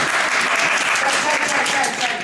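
Audience applause, loud and continuous, a dense wash of many hands clapping at a live evening show with no pauses.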